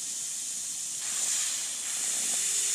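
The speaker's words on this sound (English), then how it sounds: "See that? Wonderful spray. That's what you want to see." Homemade hardware fuel oil atomizer spraying with a steady, fairly faint hiss that swells slightly partway through and continues without talk.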